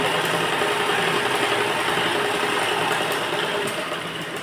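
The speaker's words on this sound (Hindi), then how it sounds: "डबल सिलाई लगा कर के इसको लॉक कर देंगे" A sewing machine stitching a net fabric blouse, running in a continuous even motor whir with a fast rhythmic mechanical buzz, close and loud, easing slightly at the end.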